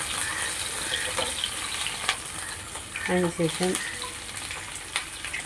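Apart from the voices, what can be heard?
green chillies and curry leaves sautéing in pan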